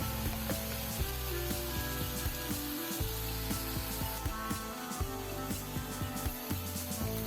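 Mulberry leaf thoran cooks in a covered pan, giving a steady, even sizzle and soft crackle with small pops throughout, close and continuous with no voices.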